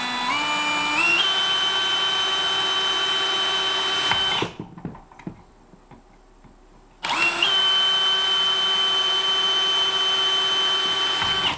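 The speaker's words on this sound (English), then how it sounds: "mark and drill 2 pilot holes" A power drill drilling pilot holes by a door whirs steadily, winds up in pitch, stops for a few seconds of quiet handling clicks, then spins up again at full speed.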